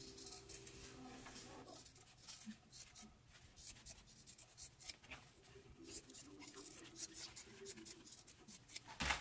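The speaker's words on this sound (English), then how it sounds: "I'm gonna go ahead and grab my scissors and trim down this seam allowance" Scissors trim down the seam allowance on fabric while sewing an anorak, a series of quiet crisp snips and soft cloth rustles scattered irregularly, close but faint.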